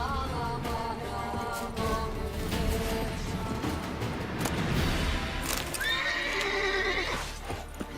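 A video game horse clip-clops and neighs, with hooves thudding busily beneath several whinnies, a loud high neigh near the end, and a few sharp knocks.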